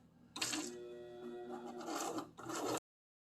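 Sewing machine running steadily along the edge of fabric for edge stitching, guiding the presser foot along the fabric edge; a loud, continuous whirring run with a brief slowdown near the end before stopping abruptly.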